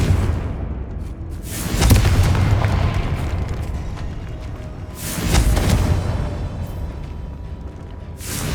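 Two deep booming blasts from the Confringo blasting spell roll out several seconds apart, each a heavy low rumble with a crackling burst that fades slowly.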